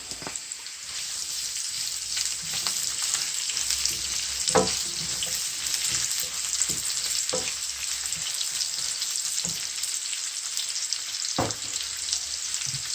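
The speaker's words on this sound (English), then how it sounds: "saute for like 5 minutes as the onion cooks down" Onion sautés in a pan with curry leaves for a salmon curry, giving a steady close sizzle broken by occasional stirring knocks and scrapes.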